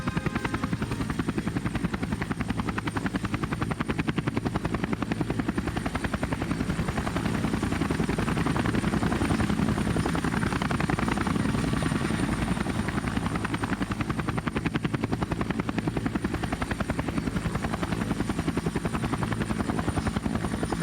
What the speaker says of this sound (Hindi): हेलीकॉप्टर बॉर्डर की ओर जाने लगा।